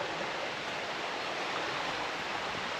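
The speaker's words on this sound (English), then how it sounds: "I have some rapids down here." Rapids on McMichael Creek rush along in a steady, even wash of broadband water noise, moderately loud and unbroken, with no voices.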